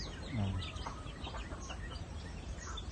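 Chickens clucking nearby, a short low cluck early on followed by scattered softer clucks and chirps over a steady outdoor background.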